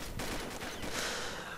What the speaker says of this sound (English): the FMG-9 is really hard to tap fire because of its 90 rated fire